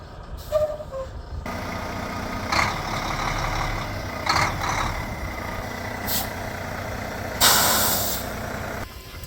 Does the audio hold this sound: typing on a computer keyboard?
no